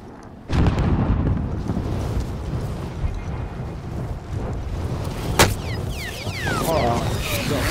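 A munition box blows up in a video game, a sharp broadband boom that rolls into a sustained rumbling roar with a second crack midway, followed by whistling debris-like tones.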